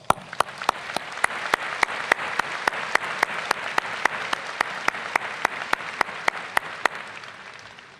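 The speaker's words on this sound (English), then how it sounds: "Please join me in congratulating them with a round of applause" Steady, full applause from a large business-school commencement audience, a dense roar of claps holding evenly for the whole stretch and tapering slightly at the end, with no voices over it.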